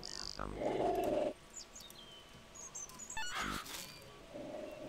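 Dog in the video game Sir, You Are Being Hunted, heard in the game audio as short yelps and growls among chirping and game sounds, with a voice talking faintly.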